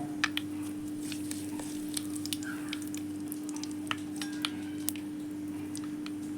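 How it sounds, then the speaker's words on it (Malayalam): Mustard seeds spluttering in hot coconut oil in a pan: sparse, sharp little pops and crackles scattered irregularly over a steady low kitchen hum, with no voices. "വെളിച്ചെണ്ണ ചൂടായിട്ടുണ്ട് അപ്പോൾ ഇത്തിരി കടുക് ഇട്ട് കൊടുക്കാം കടുകൊന്ന് പൊട്ടി വരട്ടെ കേട്ടോ"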